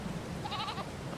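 A ram in the Farming Simulator 22 video game gives one short, wavering bleat of moderate loudness over a low background hum, with no talking during the call.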